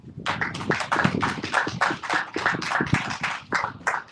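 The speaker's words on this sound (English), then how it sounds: "Let's give the Most High a round of applause" Hands clapping in a religious Sabbath class gathering, a brisk run of distinct individual claps from a small group, fairly close and steady, with no voices over them.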